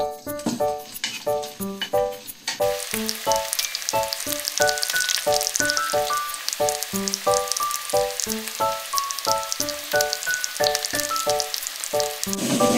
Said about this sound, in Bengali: এখন এটার মধ্যে আমি পেঁয়াজ বাটাটা দিয়ে কষাবো।